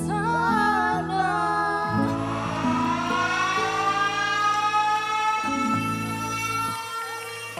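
Ambulance siren wailing loud and close, its pitch sliding up and down in repeated sweeps, with a steady low tone shifting underneath and no speech.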